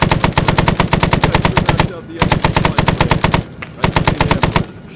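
Loud, close machine-gun fire in Arma 3 set in a Vietnam-era SOG Prairie Fire scenario, long sustained bursts of rapid rhythmic shots broken by two brief pauses.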